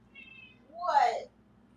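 A skittish house cat lets out a single rising meow, close and clear, with a voice just before it.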